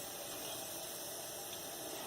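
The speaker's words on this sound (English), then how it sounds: "Still sounds like it's sizzling to me." A crepe sizzling in a frying pan gives off a steady, dense, close hiss that holds evenly throughout, with no voices over it.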